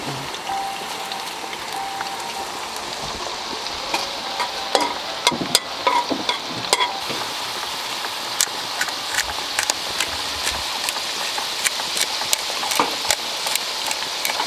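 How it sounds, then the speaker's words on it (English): Steak sizzles steadily in a hot pan at a campsite, a continuous crackling hiss with occasional sharper pops and spits. "And what are we frying this steak in?"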